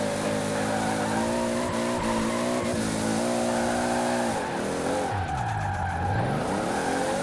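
A Toyota Supra MK3/A70 drift build in Forza Horizon slides with no rear grip, its engine droning loudly and revs sweeping up and down under continuous tire skid and squeal, with no talking.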